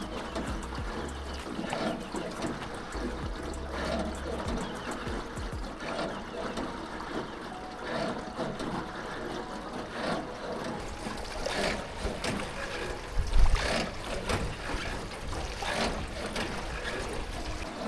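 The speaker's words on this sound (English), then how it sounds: "Drifting through rice fields, passing under low limestone caves, hearing nothing but water and the oars." Oars of a rowboat dip and slosh in river water while gliding through rice fields and under low limestone caves at Tam Coc, Ninh Binh, Vietnam; a steady, close wash of splashing and trickling continues throughout with no voices.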